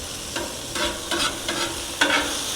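Leftover burger patties reheating on a Blackstone griddle hiss steadily, broken by several brief scraping bursts as a spatula pushes liquid and flips them, close and with no talk.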